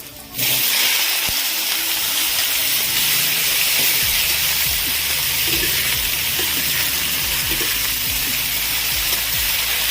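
Vegetables hitting a hot pan after garlic, sizzling loudly and continuously with steady steamy hiss and occasional scraping stir strokes, close and without talk.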